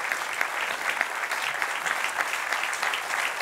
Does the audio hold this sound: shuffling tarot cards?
no